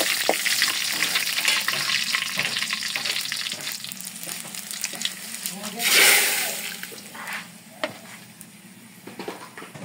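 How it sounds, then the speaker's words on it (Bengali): Spiced baghar tempering poured into cooked dal in a home kitchen sizzles and fizzes steadily, with a louder hissing burst partway through, under a speaking voice. "আমি ডাল বাগার দিতেছি"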